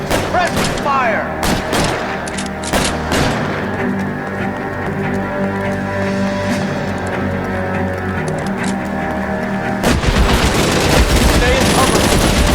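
Gunfire in the L.A. Noire electroplating-plant shootout: sharp shots crack out in bursts over a dense, steady background of game noise and music, with a louder burst of firing near the end.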